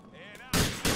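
Two sharp, loud gunshot bursts in quick succession in Grand Theft Auto IV, following a brief muffled voice.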